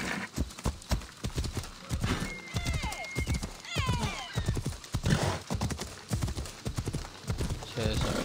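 Horse hooves clip-clop steadily through a video game, mixed with whinnies and game sounds while someone talks over nearly the whole stretch.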